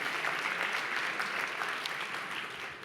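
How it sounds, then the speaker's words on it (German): An audience at a DLD keynote applauds, a steady, moderately loud wash of many hands clapping throughout, fading slightly at the end. "Kleinen Applaus"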